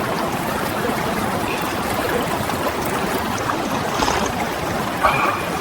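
A river flowing beside an outdoor cooking spot in the wild, a steady broadband rush and babble of water, fairly close and constant, with a few faint higher clinks over it and no talking.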